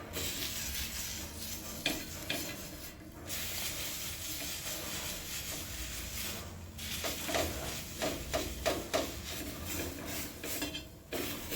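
A steel wire scrubber scrubbing an oily, dirty pan, giving a continuous harsh scratchy hiss with rhythmic strokes, close and steady, without talk.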